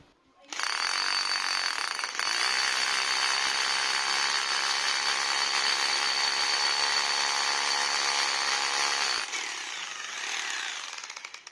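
A Hitachi DH24PH rotary hammer drill, serviced after concrete drilling, runs under power for about nine seconds with a loud steady whine and hammering buzz, then winds down as it switches off.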